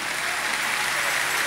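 A congregation claps and applauds together during a church sermon, a dense, steady wash of many hands, loud and close, with no talking over it.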